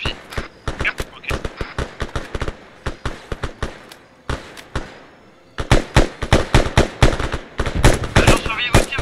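Bursts of automatic rifle fire and single shots in Arma 3 during a cooperative combat mission, loud and close. Rapid cracks come in clusters with a short silent gap partway through, and the firing then resumes heavily.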